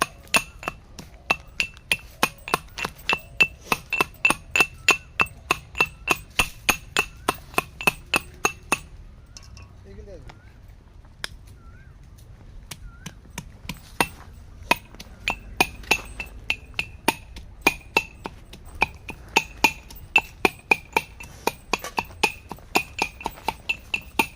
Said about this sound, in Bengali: আদা রসুনটা বেটে নিই